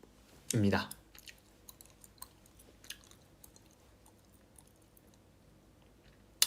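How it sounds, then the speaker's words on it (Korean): Charlie Dol brand chewing gum chewed close to the mic in one brief loud wet burst, followed by faint scattered clicks and smacks in a quiet room. "지금 먹는 껌은 찰리 돌껌입니다."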